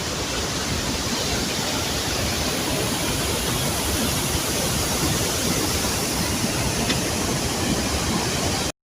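Dudhsagar waterfall in Goa roars with rushing water, a dense, constant, loud wash of noise with no breaks, heard close up and alone.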